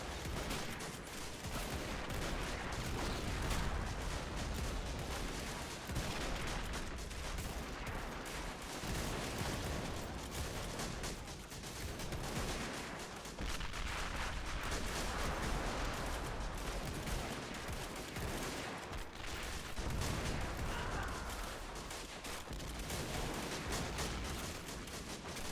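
Mortar blasts and gunfire in a World War One trench battle game where a French regiment storms German lines, a dense continuous roar of distant firing and explosions with no clear separate shots.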